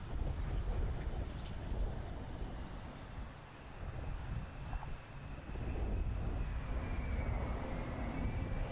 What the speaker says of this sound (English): There's a B-2 bomber coming back home.